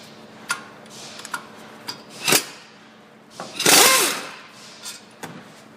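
Two 15mm bolts come out of the back of a Ford Fusion 6F35 transmission: close metallic ratchet clicks and taps, a few sharp bursts of wrench noise, and a longer rattling spell midway.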